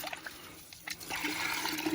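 Water from a farmhouse's house line runs and splashes as a container is rinsed and filled, a continuous gushing and trickling that grows fuller toward the end, close and alone.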